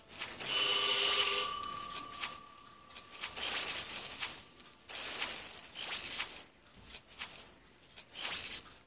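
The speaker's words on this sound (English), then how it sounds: "someone is ringing the bell" A bell rings at home: a bright, sustained chime near the start that fades out, followed by scattered quieter knocks and movement.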